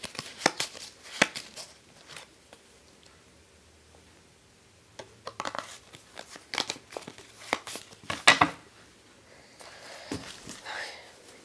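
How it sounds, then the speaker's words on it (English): A deck of playing cards being shuffled by hand for a card trick, irregular crisp riffles and flicks in bursts with quiet gaps, close up. "now I want you to take this deck, shuffle it up, and find a card inside there."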